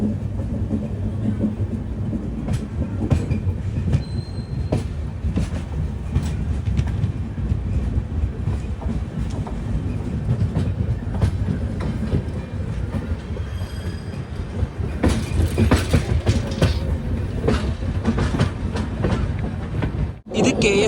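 Sanghamitra Express sleeper train running on the tracks approaching KSR Bengaluru railway station, a steady loud rumble of wheels and carriages with occasional squeals and clatter throughout.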